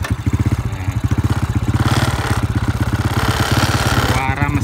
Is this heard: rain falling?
no